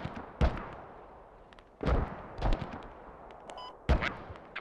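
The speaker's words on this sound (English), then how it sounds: "We're still taking heavy fire from the nearby houses in the pitch." Scattered heavy gunshots and booms from a large Squad battle, four or five separate reports spaced irregularly over a low background rumble, somewhat distant.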